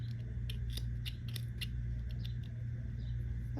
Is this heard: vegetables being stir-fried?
no